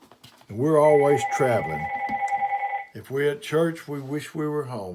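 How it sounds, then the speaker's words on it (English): A telephone rings with a steady electronic trill lasting about two seconds, heard underneath a man who keeps preaching loudly through the ring. "excuse this phone ringing"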